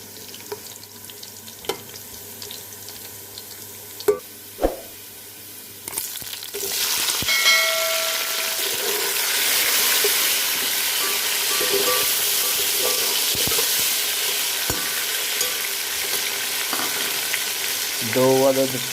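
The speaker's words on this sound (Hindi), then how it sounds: "एक कप लिया है घी, एक अदद ले लिया प्याज। प्याज को अच्छी तरह से ब्राउन होने देंगे।" An onion frying in a cup of ghee, a steady loud sizzle that bursts in after a few quiet taps and clinks, then crackles on close by with occasional stirring.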